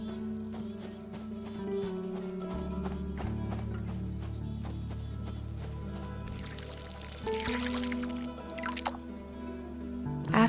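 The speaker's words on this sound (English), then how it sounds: "Then I watered the beet seeds." Beet seeds are watered in the horror game Fractured Blooms: soft drips and a gentle pour of liquid run throughout over a steady, droning ambient music bed, with a brief splashier burst near the end.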